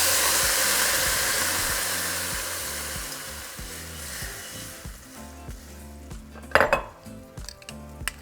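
Beef broth pours into a pot of sautéing minced garlic, starting as a loud rushing hiss that slowly fades into bubbling and pan clatter, with a sharp clank near the end.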